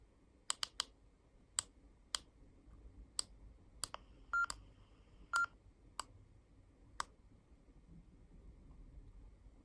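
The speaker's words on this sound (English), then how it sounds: "I'm using the clicker on the top" Sharp, separate clicks come from the buttons of a Yaesu FT3D handheld radio, spaced irregularly across the clip with a few quick doubles and faint short beeps. Each click is brief and close against a quiet background, with no talk.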